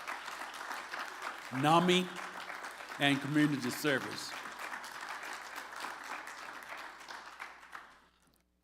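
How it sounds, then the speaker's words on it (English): Audience applause at a community mental health event, steady clapping from a crowd filling the room throughout, with a speaker's amplified voice talking over it before the clapping fades out at the end. "Let's have a round of applause for"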